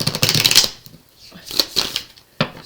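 Tarot cards are shuffled in quick riffling bursts, a crisp flutter followed by a couple of shorter shuffles and a soft tap.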